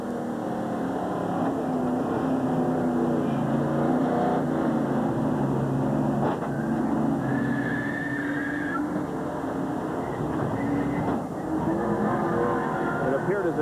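A NASCAR stock car engine roars steadily from an in-car camera at Talladega during the 1987 Winston 500, a loud continuous drone with slight pitch shifts, with commentary voices talking over it.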